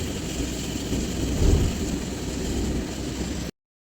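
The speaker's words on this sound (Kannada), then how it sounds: "ಒಳ್ಳೆ ಮಳೆ ಬಂದಿದೆ ನೋಡಿ" Heavy rain drums steadily on a truck cab on the Honnali bypass in Karnataka, with a dense continuous hiss, a brief swell of low rumble midway, then an abrupt cut to silence.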